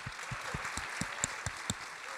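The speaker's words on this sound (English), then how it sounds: "Really a big round of applause" Sparse, quiet audience applause at the close of a journalism conference panel session: a small number of evenly spaced claps heard from a distance, with no voices.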